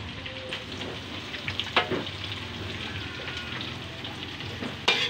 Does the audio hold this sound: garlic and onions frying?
yes